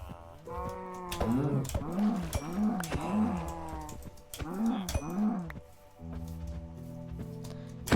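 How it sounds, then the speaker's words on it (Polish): Several long, low Minecraft cow moos in quick succession, loud and near, over a soft background hum with a brief pause between calls. "O, krowy."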